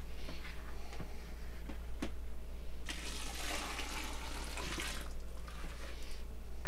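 Water pours and splashes into a pollen patty mix for bees, a soft continuous rushing that swells midway, faint and close with no talking.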